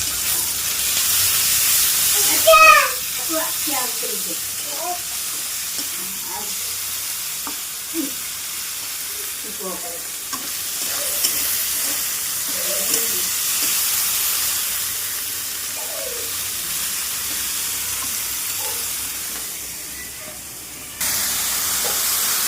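Onion, tomato and chili tadka frying in butter gives a steady, close sizzle throughout, with scattered clinks and stirring noises over it and a brief louder bump near the start.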